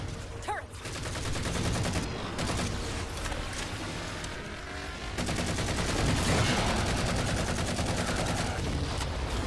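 Sustained rapid-fire Warthog turret gunfire from Halo 4, loud and continuous, with a brief lull near the middle before the dense automatic fire resumes and keeps going.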